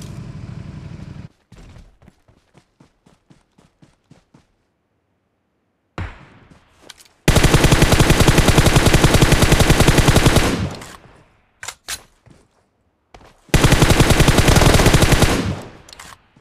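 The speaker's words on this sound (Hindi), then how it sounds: "फायरिंग करो।" Gunfire in PUBG Mobile: a burst of single shots, then long, loud sustained automatic fire in two extended volleys separated by gaps of near silence, with scattered shorter bursts between.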